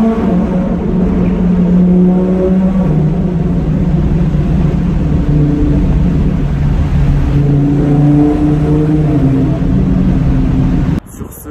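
A Lamborghini Huracan Performante being driven, its engine holding a steady loud drone with shifting tones as it cruises, cabin and road rumble beneath, ending abruptly.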